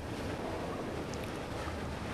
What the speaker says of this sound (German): Ich muss das einmal anheben, damit der Wasserpegel sich füllt.